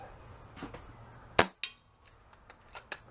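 A rifle shot fired at a target 30 yards away on an outdoor range, one sharp loud crack followed by a quick second report, then quiet background with a few faint clicks.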